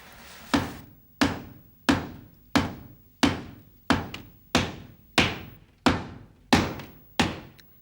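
A gold beater's hammer pounds gold leaf in a workshop by Lake Geneva, about a dozen heavy, close strikes falling at a steady rhythm of one blow roughly every two-thirds of a second, each ringing out briefly before the next.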